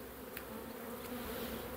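Honeybees buzz at a hive during a spring apiary visit, a close, continuous drone with a couple of brief clicks.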